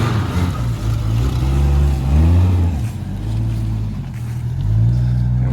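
A 1980 Chrysler Cordoba LS with an oil-burning, smoking engine, running close by with a deep, rough idle and a few rises and falls in revs across several seconds.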